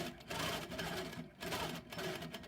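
A Handi Quilter longarm quilting machine runs in short stitching bursts as it moves back and forth, a steady rapid mechanical chatter that pauses briefly between passes, fairly close and without talk.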